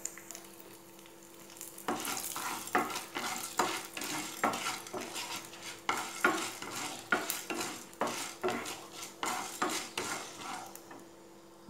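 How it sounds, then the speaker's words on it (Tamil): Coconut rice with dried red chillies stirred in a pan, a spoon scraping and tossing it in an irregular rhythm of close scrapes and clinks over a faint steady sizzle, with no talking. "நல்லா கிளறி விடுங்க."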